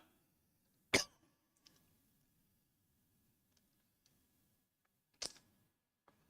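A man with a sore throat coughs twice, one sharp, loud cough near the start and another a few seconds later, with quiet room tone and faint low murmur between them.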